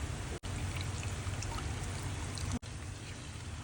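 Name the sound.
pouring tamarind water into pan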